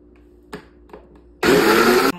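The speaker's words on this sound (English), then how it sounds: "My grinder mixer is pretty noisy." Vitamix grinder mixer grinding dosa batter to a paste, a loud dense roaring whir that bursts on after a few faint clicks and knocks, then cuts off abruptly.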